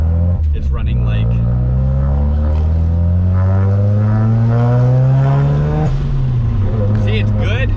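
A Mazda RX7 rotary engine runs steadily while driving, a loud, close drone whose pitch climbs gradually, dips and settles, with a brief sharper burst near the end.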